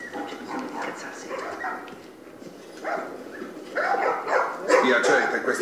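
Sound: dogs barking in The Last of Us video game

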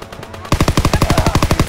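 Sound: machine gun fire in Call of Duty WWII, video game

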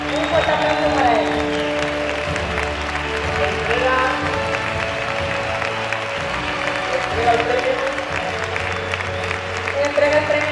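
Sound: audience applause for song festival award winner

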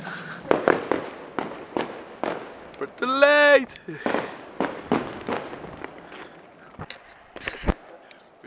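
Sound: fireworks exploding near a castle

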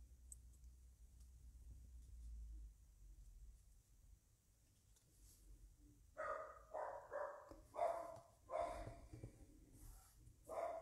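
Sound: dogs barking

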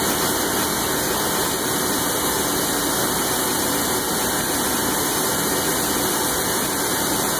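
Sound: machine cutting a part for a threaded T-mount

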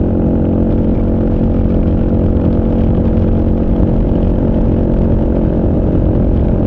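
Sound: Kawasaki KLR motorcycle engine at highway speed

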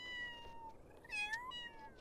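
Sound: kittens meowing in video game Feral

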